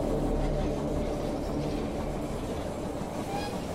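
A train pulls into a station in the strategy game They Are Billions, a steady rolling rumble of wheels and carriages, moderately loud and continuous.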